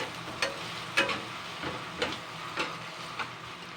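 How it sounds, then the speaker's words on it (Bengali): Chopped onions frying in leftover egg-frying oil give a soft, steady sizzle, with a handful of sharp scraping stirs of a spatula breaking in at regular intervals. "এই ডিম ভাজার তেলেই কিন্তু আমি পেঁয়াজ কুচানোটা দিয়ে দিচ্ছি"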